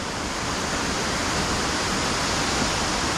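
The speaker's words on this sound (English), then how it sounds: "So you've got the main waterfall, then you've got all those streams coming down the rocks on the other side." A main waterfall with smaller streams running down rocks gives a steady, even rushing roar of falling water, with nothing else heard.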